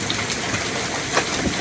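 Torrential rain pours down in Minneapolis after hail, a steady, loud broadband roar of water with a few brief splashing surges, no voices.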